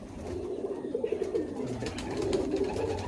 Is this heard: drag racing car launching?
no